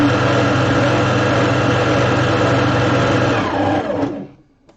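An electric mixer briefly combining keto flaky pastry ingredients, a loud steady motor whir held for about four seconds before spinning down and stopping.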